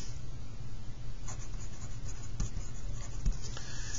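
Pen writing on a paper map, soft close scratching strokes with a couple of light taps as the tip meets the paper.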